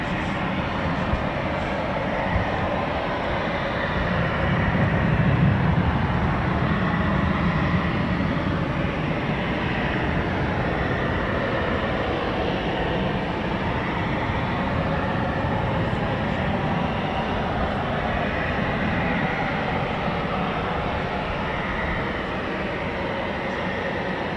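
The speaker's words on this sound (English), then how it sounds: "we've got another 2 Typhoons taxiing out" Two Eurofighter Typhoon FGR4 jets of 41 Squadron taxi out at RAF Coningsby, a steady, broad, distant engine roar that continues without a break.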